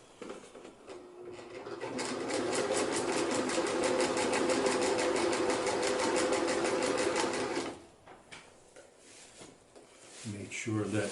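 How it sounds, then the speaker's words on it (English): Sewing machine back-stitching sleeping bag fabric, a fast, steady mechanical chatter that runs for about six seconds and then stops, followed by quieter handling noises. "So I'm going to start out with a little back stitch here, and I'll be pulling out these big pins as I go along."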